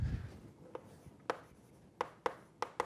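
Writing on a board while explaining a theorem, a few soft, sharp marker or chalk strokes and taps at irregular intervals over quiet room tone, close and faint.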